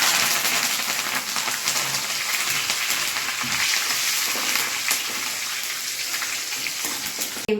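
Curry leaves frying in hot oil with peanuts, a loud, dense, continuous sizzle and crackle close by, steady throughout with no talking.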